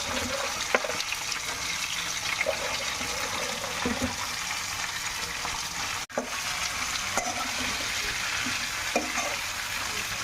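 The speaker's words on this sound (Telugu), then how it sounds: "చిక్కుడుకాయని మూత పెట్టకుండా వేయించుకోవాలి" Broad beans sizzle steadily in an open pan, a constant frying hiss with occasional scrapes and clinks of stirring, fairly close and without voices.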